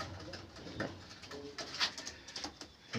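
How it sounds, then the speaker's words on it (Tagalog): Pigeons coo softly in a pigeon loft, with scattered calls and faint rustling over a steady background hum. "Ang dami rin ng ibon ni Bossing."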